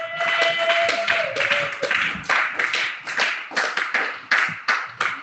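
A congregation claps at a church gathering on the resurrection, a steady, loud run of rhythmic hand claps that fills the room from start to finish.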